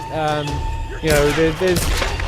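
Gunfire from the Tomb Raider (2013) action game on Xbox One, with a couple of sharp bursts of shots over a voice talking throughout.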